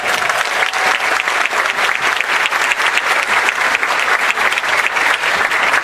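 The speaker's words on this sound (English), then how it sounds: "Give him another round of applause" Sustained, loud applause from an event audience honoring someone, dense clapping that stays even and unbroken throughout.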